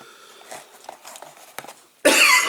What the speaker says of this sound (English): it's that cough again. Still can't quite get rid of it.